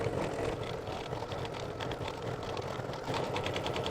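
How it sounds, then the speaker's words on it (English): An embroidery machine stitches a satin stitch over raw fabric edges on an in-the-hoop monster bag, giving a steady, fairly faint mechanical whir with a fast rapid pulse that runs without a break. "now it's going to stitch down the satin stitch on top of the raw edges"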